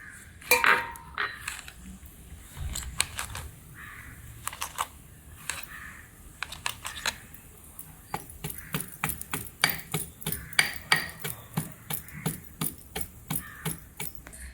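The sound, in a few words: pounding fennel seeds and cumin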